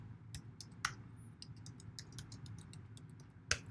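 Keystrokes on a computer keyboard while entering a password into an SSH login prompt, a few light, irregular clicks with one sharper tap near the end over a low room hum.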